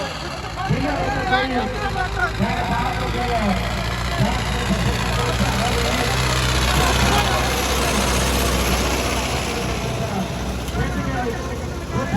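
Tractor engines rumble steadily at a Punjab tractor fair, a continuous low idling drone lasting throughout, with a loud crowd and a voice talking over it.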